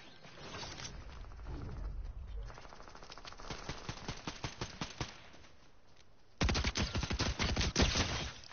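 Video game gunfire comes in rapid bursts of sharp shots, with a quieter rattling stretch followed by a louder, denser volley near the end.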